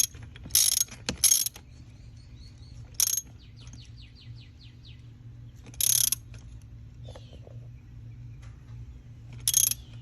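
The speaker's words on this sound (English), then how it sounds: "you just get your socket, your wrench," Socket wrench ratcheting a spark plug back into a VQ35HR engine, heard as several short, loud clicking bursts spaced across the clip, with birds chirping faintly in the background.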